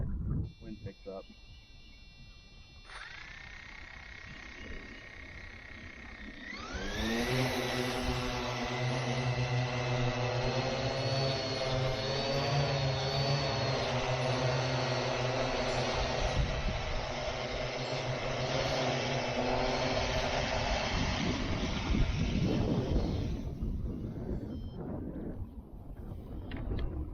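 A Goliath drone flying in gusty wind spins up after a few seconds of wind buffeting into a loud, sustained tonal motor whine that wavers in pitch for about fifteen seconds, then fades back into wind noise.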